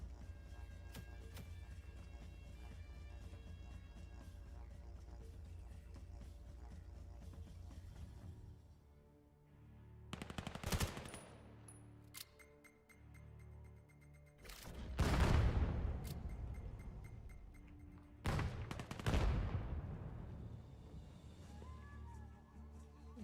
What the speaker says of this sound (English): Lots of gunfire right through the smoke.